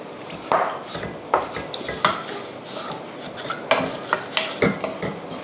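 Palm sugar is stirred into fish sauce in a pot to dissolve it, producing a close series of uneven metallic clinks and scrapes of a utensil against the pot, with no talk.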